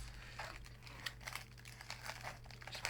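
Packaging crinkles and rustles as a Yui660C prototype keyboard is lifted out of its box, a steady run of soft crumpling with small crackly bursts, close and fairly quiet against low hum.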